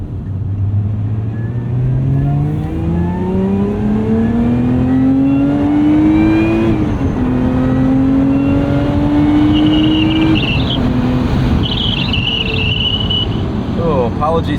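A 2024 Lotus Emira sports car in track mode revs hard and close, its engine note climbing steadily to a peak, dropping briefly, then rising again in a long loud sweep, with a chime-like tone near the end.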